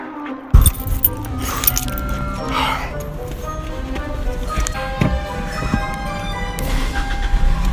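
Car keys jangle in short metallic bursts near the listener over an outdoor background of passing traffic, with a sharp clatter near the start and more jingling later.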